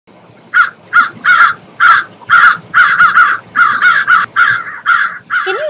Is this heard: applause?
no